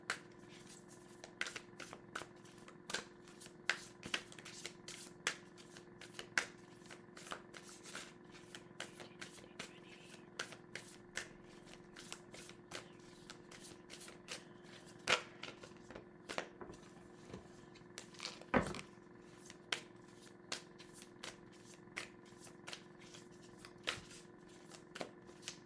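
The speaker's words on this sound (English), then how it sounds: "let's give these cards a good shuffle." Tarot cards shuffled by hand over a long stretch, a steady run of soft riffling flicks and papery slaps with occasional sharper snaps, close and fairly quiet, with no talk.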